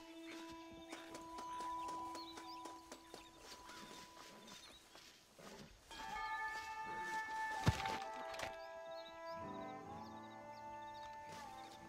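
A horse walks at an even clip-clop pace in Red Dead Redemption, soft repeated hoofbeats blended with game music and ambient tones, no one speaking.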